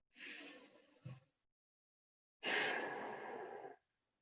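Two long breaths during a yoga forward fold: a drawn-out inhale, a short pause, then a longer, fuller exhale. Both are close and clear with no talking, and a small gap separates them.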